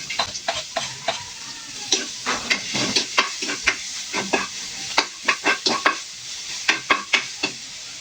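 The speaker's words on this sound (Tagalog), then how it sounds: "pwede na po tayong mag-gisa. Gigilid ko lang yung ano, karne. Bawang saka sibuyas." Garlic, onion and meat sautéing in hot oil in a pan, a loud close sizzle broken by sharp scraping spatula strokes in a quick rhythm, with no talk.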